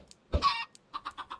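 Minecraft chickens in the ATM10 modpack cluck in a video game, a burst of fowl noise followed by four quick, evenly spaced clucks, close and moderately loud with no talking.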